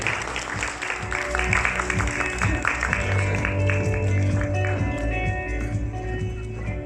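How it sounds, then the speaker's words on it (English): Applause greeting a company CEO at a press conference, a steady wash of clapping from a crowd heard over a loud background of music with strong low bass throughout. "Round of applause for Mr. Charles Kim."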